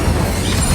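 The Incendio fire spell cast in the Hogwarts Legacy video game, a loud, dense rushing burst of flame noise that holds steady for under a second.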